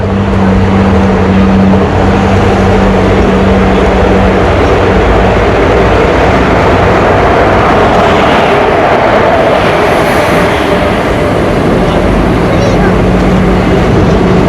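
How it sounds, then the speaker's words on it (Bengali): A train rolls into a crowded station platform, its loud, dense rumble and roar filling the space continuously and close by, with a steady low hum underneath and no clear break. "চলে আসলো এখন ট্রেন বন্ধুরা"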